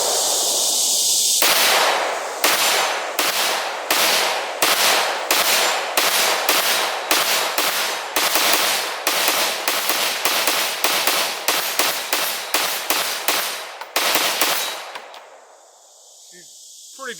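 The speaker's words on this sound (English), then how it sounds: "we'll put some shots through it in single fire" Single-fire gunshots from a Fostech Echo binary-trigger rifle, shot one at a time in a fast steady string of roughly two dozen loud, sharp cracks, close and plain with no talk, ending in a short quiet stretch.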